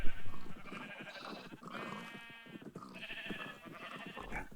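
Sheep in a video game bleat repeatedly, several overlapping wavering calls close by in a flock, with no talk over them.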